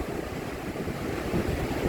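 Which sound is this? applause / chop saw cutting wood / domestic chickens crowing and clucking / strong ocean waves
strong ocean waves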